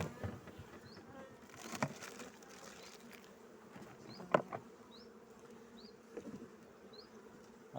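Honeybees buzz around an open beehive during a spring hive inspection, a steady, faint drone with a few sharper, closer passes and no talking.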